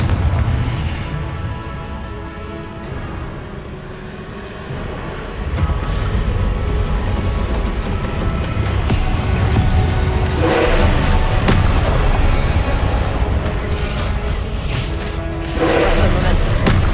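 Spells cast in Hogwarts Legacy, including Confringo and Expelliarmus, make loud booming blasts and thuds that swell after a quieter start and recur over several seconds, with a voice talking throughout.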